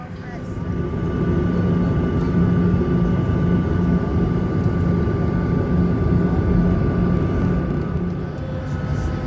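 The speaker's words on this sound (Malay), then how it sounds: "Bila kapal terbang dah bergerak laju" An airplane speeds along its takeoff run, producing a loud, unbroken roar with steady droning engine tones that swell slightly and hold for the whole stretch.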